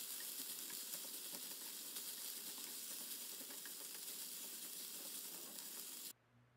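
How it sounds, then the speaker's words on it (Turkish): Onions frying in olive oil in a pan, a steady, dense sizzle with fine crackles that runs unbroken for about six seconds, then cuts off abruptly. "Soğanlarımı ekliyorum. Soğanları güzel bir kavuracağım iyice yumuşayana kadar."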